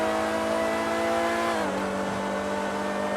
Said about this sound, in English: you can already hear the engine struggling